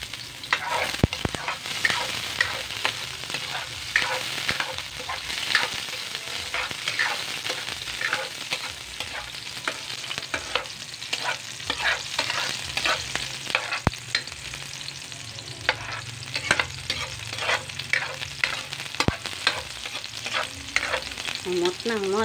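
Onions fry and get stirred in a pan for kaldereta, a steady loud sizzle with repeated scraping strokes of the spoon running throughout, close up and with no talking.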